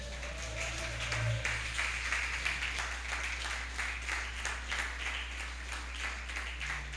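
A church congregation applauds during a sermon on prayer, a soft, continuous spread of clapping heard at some distance over a low steady hum, with a brief tone near the start.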